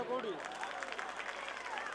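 An audience at a comedy stage show claps in a brief, steady burst of applause, heard under a voice speaking.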